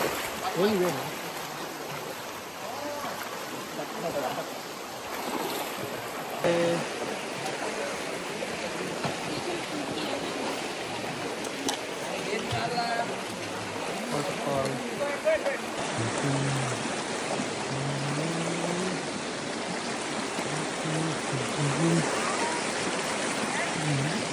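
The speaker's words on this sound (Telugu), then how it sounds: "వాటర్ ఫాల్ ఇదేనా? ఇదే వాటర్ ఫాల్." Rushing water of a stream and waterfall in The Narrows at Zion National Park, a continuous broadband roar close by, with people talking faintly beneath it at times.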